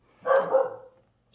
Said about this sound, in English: since he's barking at something